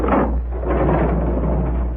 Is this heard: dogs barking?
no